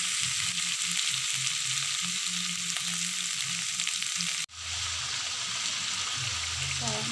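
Oyster mushrooms and tempeh sizzle steadily in a hot frying pan while being stirred, a loud continuous crackling hiss close by that briefly cuts out and resumes, with faint voice in the background.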